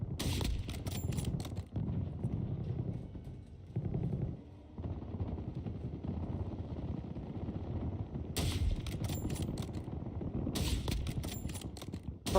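Gunfire from a video game firefight, bursts of sharp shots and rattling volleys over a dense game mix, with a couple of louder bright blasts standing out.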